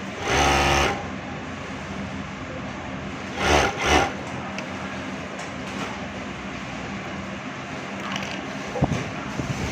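A sewing machine stitches fabric across a seam joint in two short, loud whirring bursts separated by a steady lower background hum, with no one speaking.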